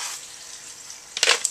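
Water trickles quietly in a sump tank, then a bell siphon kicks in with a short, gurgling gush of flushing water near the end.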